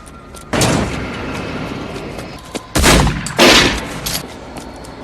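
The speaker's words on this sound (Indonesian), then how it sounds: "Terjadi adu tembak di antara mereka." Gunfire during a film shootout at an airport airfield: several sharp, loud shots and short bursts spaced irregularly, with echoing tails over a low background rumble.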